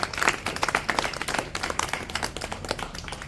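Audience claps together at a Satsang Sabha gathering in Nikol, a burst of dense, fairly close applause with rapid uneven hand claps that thins slightly toward the end.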